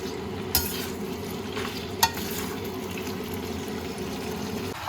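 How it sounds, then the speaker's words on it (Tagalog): Black mushrooms sauté in butter in a pan with a steady close sizzle, plus two short sharp knocks of a utensil against the pan, with no one speaking. "Naigisa ko siya sa butter."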